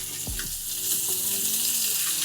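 Onions sizzle and fry in a cast iron pan, a close, steady crackling hiss with a few soft clinks near the start.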